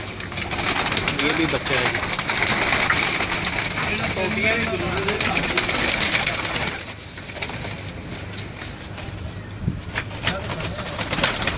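Samrat breed pigeon chicks coo and call in a loft, soft repeated murmurs mixed with other birds, under a voice talking through much of the scene and a faint engine hum behind.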